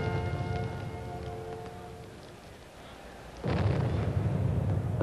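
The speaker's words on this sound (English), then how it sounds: "A single cannon" A single cannon shot at the 1936 Berlin Olympics closing ceremony booms once from a distance over crowd murmur, followed by a broad lingering rumble.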